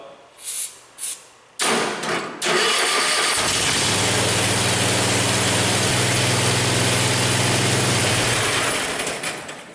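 A few cranking bursts, then a tracked vehicle's heavy engine catches and roars to life, settling into a loud, rumbling idle close by.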